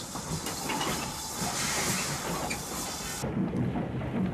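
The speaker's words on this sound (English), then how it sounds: "a 2MT mogul approaches from Trent Junction" A 2MT mogul steam locomotive approaches near Trent Junction, a broad continuous rumble and hiss that carries steadily, with the hiss dropping away near the end.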